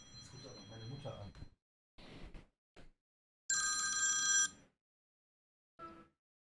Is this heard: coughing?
no